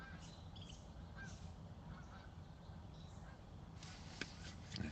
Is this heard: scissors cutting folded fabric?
no